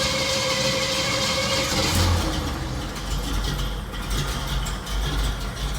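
A Jeep CJ-7 with Quadra-Trac four-wheel drive runs steadily at a close, loud idle after starting, with a rough low engine rumble and mechanical clatter throughout.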